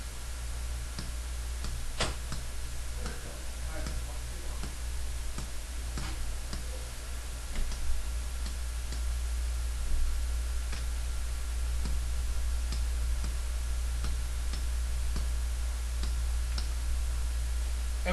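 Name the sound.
typing numbers on a calculator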